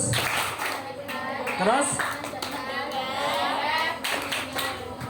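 Junior high students at SMPN 41 Semarang perform a rhythmic group clapping routine, quick patterned claps among lively children's voices and chatter, with a teacher's voice also heard.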